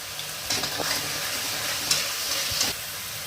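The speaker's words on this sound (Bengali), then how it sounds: "পেঁয়াজ রসুন আদা বাটা পেস্টটাকে একটু নাড়িয়ে নিচ্ছি, মানে একটু ভেজে নিচ্ছি" An onion, garlic and ginger paste with turmeric fries in a pan with a steady background sizzle, broken by a few scraping stirs of a spoon. Close and moderately loud, with no voices.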